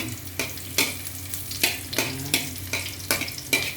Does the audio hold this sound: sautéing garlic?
yes